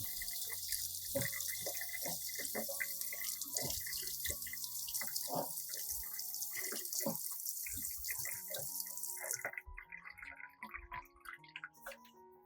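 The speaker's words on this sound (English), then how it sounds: "Once the plant has been rinsed clean, I place it in a dry area" Running tap water rinsing the roots of an orchid plant, with a steady close splashing stream that cuts off near the end, leaving scattered drips and small handling sounds.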